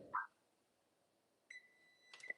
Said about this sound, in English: that timer is going to go off in 5, 4, 3, 2,